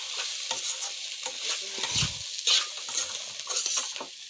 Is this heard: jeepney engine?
no